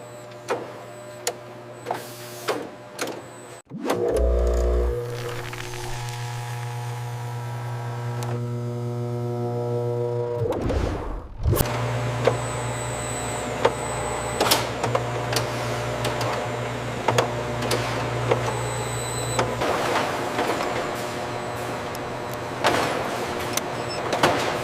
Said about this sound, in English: This machine fills each cone with exact portions.